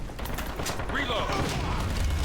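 A weapon reloads in the shooter game Metro Conflict, heard as a short clatter of mechanical clicks and metallic handling under steady background game noise, close and moderately loud.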